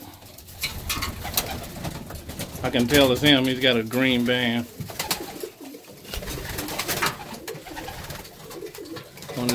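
Pigeons cooing in a breeding loft of flight homers, with one bird's clear rolling coo standing out for a couple of seconds near the microphone. Someone talks over the cooing before and after it.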